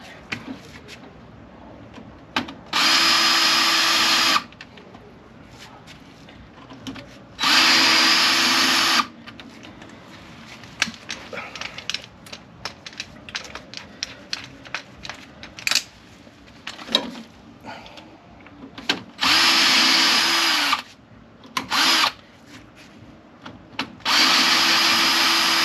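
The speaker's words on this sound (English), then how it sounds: "So hopefully, to speed things up, we'll put things on the drill." A power drill removes fasteners while a gearbox is taken out of a camper van. It whirs in several loud bursts of a few seconds each, with clanks, rattles and handling noises between them.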